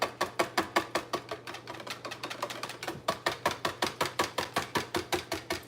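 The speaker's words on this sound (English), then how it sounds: "I'm just going to use the whisk here." Whisk stirring soap batter during soap making, a close, regular beat of quick strokes that slows for a stretch and then picks back up.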